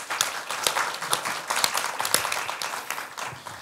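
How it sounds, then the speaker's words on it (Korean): Audience applause greets a senior researcher at a Korea Legislation Research Institute anniversary academic conference, with dense, steady clapping and sharp individual claps standing out throughout, moderately loud and without talk. "큰 박수로 한번 맞이해 주십시오."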